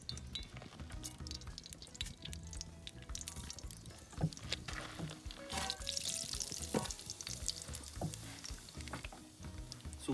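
Asafoetida sizzling in hot desi ghee in a pan, a faint close crackle with scattered clinks and stirring scrapes, rising briefly midway.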